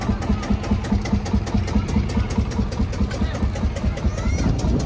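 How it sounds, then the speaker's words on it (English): A Field Marshall diesel tractor runs at a tractor run event. Its engine thumps in a loud, close, regular pulsing beat, with faint crowd sounds in the background. "Ah, diesel field marshal."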